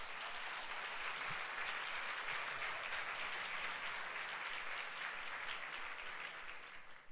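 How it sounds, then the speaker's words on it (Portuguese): During a Sunday church service, the congregation applauds with continuous, thick clapping that holds at an even level throughout before easing slightly at the very end. "Dê um aplauso ao Senhor."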